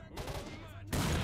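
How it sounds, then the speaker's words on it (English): Enemy gunfire in the shooter game STALKER: Shadow of Chernobyl, a short burst of rapid shots coming through a wall, fairly faint with a harsher loud crack near the end. "He is on the other side of the wall, but he's still shooting through."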